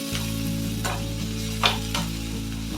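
Chopped onion and green chilli sauté in oil, giving a steady sizzle with occasional scraping stirs, over a constant low hum.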